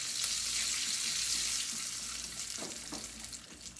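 Mustard seeds popping and sizzling in hot oil in a small tadka pan while making sambar, a steady close crackle with a few sharper pops near the end, no voices.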